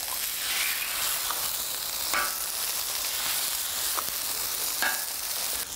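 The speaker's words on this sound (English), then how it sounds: "On my hash over here, break a couple of eggs." Eggs fry on a Camp Chef griddle beside a hash of wild boar sausage, peppers, onions and garlic, a steady bright sizzle with a few soft scraping touches at intervals.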